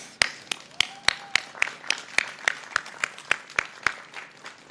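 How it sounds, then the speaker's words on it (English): Applause at a Los Angeles County reopening event. Sharp, evenly spaced claps ring out one after another, close and fairly loud, with a few hands clapping together and no talk over them. "I want to give you a round of applause."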